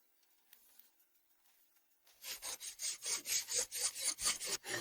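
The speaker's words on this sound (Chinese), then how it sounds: "手工打磨高硬度合金" Hand filing of a hard alloy part: after a quiet start, a steady run of rhythmic rasping strokes, about ten close, loud back-and-forth scrapes with no talking.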